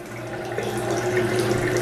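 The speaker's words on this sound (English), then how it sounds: "but it spews like a fountain outside." A water tank's well pump line sprays and spews like a fountain outdoors, producing a steady, loud hiss of rushing water over a low pump hum.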